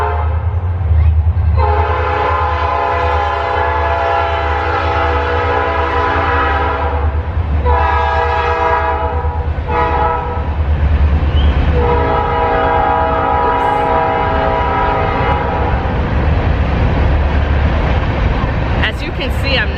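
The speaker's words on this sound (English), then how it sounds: "There's a train passing." A passing train sounds a long, loud horn blast that pauses and resumes, over a steady rumble of rolling wagons and clickety-clack close by, with a brief squeal near the end.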